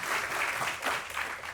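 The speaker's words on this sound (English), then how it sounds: "give you all a round of applause" Brief burst of audience applause from a sold-out crowd at a Galveston welcome event, dense broadband clapping sustained for under two seconds at moderate level with no voices.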